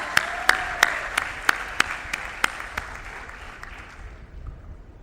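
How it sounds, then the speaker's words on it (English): Audience applause at a university graduation ceremony, a sustained wash of clapping with a few sharp nearby claps standing out in a steady beat before it fades away. "Give yourselves a round of applause."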